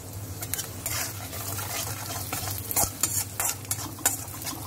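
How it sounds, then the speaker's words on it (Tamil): Mustard seeds, cumin, coriander and curry leaves sauté in ghee with rasam powder and salt for buttermilk rasam, giving a steady close sizzle broken by stirring scrapes and small pops. "நெய்யில் கடுகு, ஜீரகம், கொத்தமல்லி, கருவேப்பிலை எல்லாத்தையும் பாதிச்சுட்டு ரசப்பொடி உப்பு சேர்த்து வதக்கிட்டுருக்கோம்"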